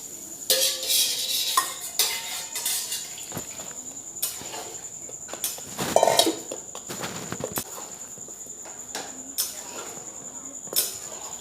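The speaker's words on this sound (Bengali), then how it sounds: "ভালো করে আমি মিশিয়ে নেব জল দিয়ে" A utensil clinks and scrapes against a bowl while dhokla batter is mixed with water, irregular taps and stirring strokes up close, with a faint steady insect-like whine in the background.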